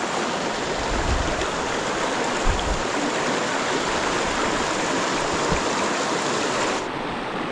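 Steady, broadband rush of a deep river flowing, continuous and fairly loud with a few low thumps, cutting off sharply near the end; no voices.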